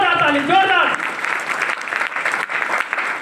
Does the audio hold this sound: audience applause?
yes